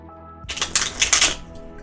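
Oracle cards from an animal spirit deck being shuffled by hand, a dense papery riffle of rapid slaps and flutters lasting about a second, close and fairly loud after a quiet start.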